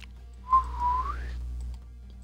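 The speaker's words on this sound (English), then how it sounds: "I just whistled it, whistle, baby, whistle all the way through." A person whistles one rising, wavering note of about a second against a low steady hum, with no talking.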